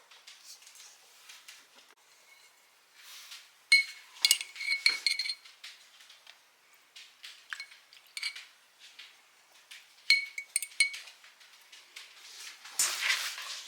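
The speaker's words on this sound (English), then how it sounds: "Just stir it around until you get everything nice and incorporated." Pulled pork, tater tots and optional pickled jalapeños being stirred together in a bowl: soft, scattered clinks and scrapes of a utensil against the dish, coming in irregular bursts with quiet gaps between.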